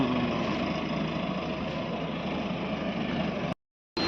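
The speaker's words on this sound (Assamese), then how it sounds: "এয়া ট্ৰেক্টৰত গৈ আছোঁ বৰ্তমান আমি।" A tractor engine runs steadily at close range while driving, a constant loud drone that cuts out for a moment near the end before resuming.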